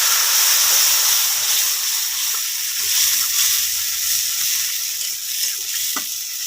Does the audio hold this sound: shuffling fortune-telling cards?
no